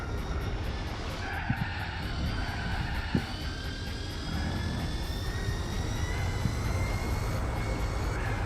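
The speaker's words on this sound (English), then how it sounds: "the Nissan has overtaken the Toyota." A Nissan race car overtaking a Toyota in Gran Turismo 4 on Circuit de la Sarthe, heard as a steady engine roar with rising whine tones and a couple of brief clicks, with no talking.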